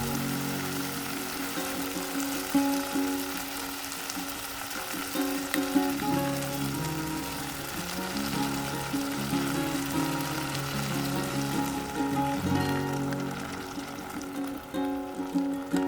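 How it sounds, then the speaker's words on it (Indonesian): Pork ribs sauté in a pan with sweet sauces and palm sugar, giving a continuous close sizzle and bubbling with intermittent stirring scrapes and clinks throughout. "ini kita tumis sampai dengan warnanya sudah berubah kecoklatan ya moms"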